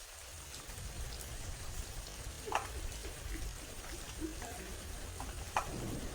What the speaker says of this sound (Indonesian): karena sedang hujan